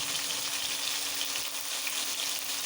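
Koi fish wrapped in gourd leaves fry in mustard oil in a wok, giving a dense, even sizzle. The hiss holds steady and close throughout without any talking.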